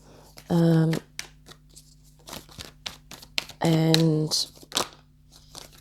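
Tarot cards riffle and shuffle in two quick bursts with soft tapping and handling between, while a voice speaks briefly.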